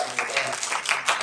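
A church audience breaks into scattered clapping for a short burst, dense and steady with a few louder claps standing out, fairly close and filling the room.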